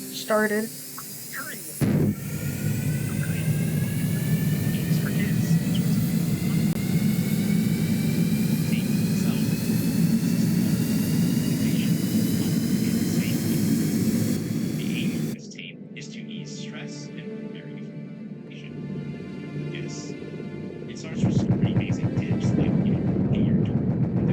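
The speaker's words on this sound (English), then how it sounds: "The aircraft started." Aircraft engine starting up in the video game Stormworks, a steady droning whine with rising tonal squeal that runs loud for a long stretch, then shifts to a thinner, choppier hum before surging again.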